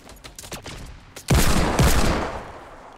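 Rapid weapon fire in the Fortnite video game, a loud sustained burst of shots erupting after quieter sounds, then fading, with no talk over it.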